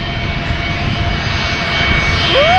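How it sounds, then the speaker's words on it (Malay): An airplane flies low overhead on approach to land at Phuket's Mai Khao Beach, its engine roar a steady loud rumble that swells as it draws closer. "Tu ada satu kapal terbang approaching."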